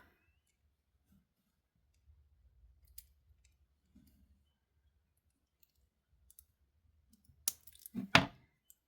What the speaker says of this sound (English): And then we're going to snip this off.